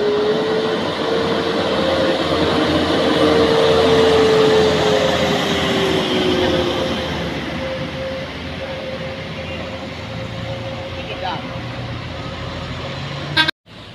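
A train unit passing along a railway track makes a loud, steady rumble, with a sustained horn tone that sounds over it for several seconds. The noise eases slightly toward the end, and a sharp bump closes the passage.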